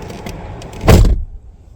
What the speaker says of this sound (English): Locks will again cycle to indicate end of programming mode.